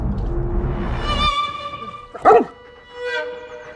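A neighborhood stray dog lets out a few high, yelping barks and whines, fairly close, separated by short pauses.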